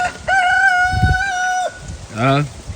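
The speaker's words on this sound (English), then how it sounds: "Big, fat, hungry chickens" A chicken gives a drawn-out crowing call, then a shorter squawk, close by, with a voice talking over part of it.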